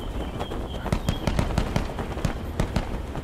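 Gunfire in the video game Contractors Showdown sounds as a rapid series of sharp shots and cracks, with some spaced and some clustered, over a steady background rumble.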